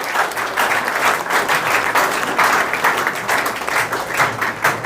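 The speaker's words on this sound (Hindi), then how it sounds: "राकेश जी सर के लिए जोरदार ताली हो जाए" A crowd gives loud, steady applause at a gathering celebrating Agniveer selections in Beawar; the dense clapping fills the space evenly throughout, with no clear speech.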